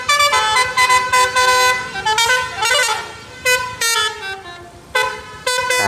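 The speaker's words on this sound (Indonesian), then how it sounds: "keluarlah bus telolet" A toy telolet bus horn plays a bright, melodic series of rising and falling toots in short repeated bursts, loud and close, with no talking.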